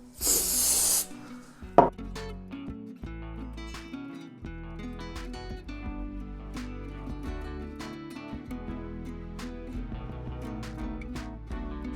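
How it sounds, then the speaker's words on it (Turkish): A short, sharp burst of hissing spray adhesive onto a papier-mâché ballerina sculpture at the start, followed by quiet background with soft music playing. "Yapıştıracağım yere de spreyi sıkıyorum."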